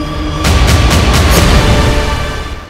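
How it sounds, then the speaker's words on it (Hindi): Artillery and tank explosions in a war zone on the Israel–Lebanon front during a morning attack: loud, continuous rumbling with several sharp booms in quick succession, no voices. "पीछे आप लगातार देख सकते हैं तोप और टैंक के धमाके की आवाज आ रही है।"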